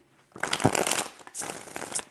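A stack of tarot cards is shuffled in two quick riffling bursts, crisp papery flutters close by with a brief pause between, no voices.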